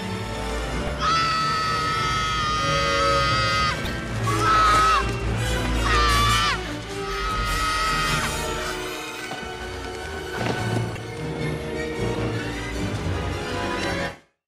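Loud, sustained screaming from a film scene in Home Alone 2, set in New York, layered over music and busy crowd-like noise, continuing for several seconds before cutting off abruptly.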